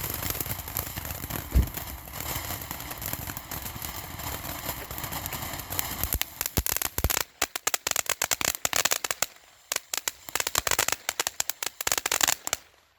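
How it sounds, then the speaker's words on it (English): Two box fountain fireworks fire together outdoors, a steady dense hiss and crackle for about six seconds that breaks into rapid irregular popping and sputtering bursts as they burn down. "This looks extremely similar to that one that first box fountain we set off."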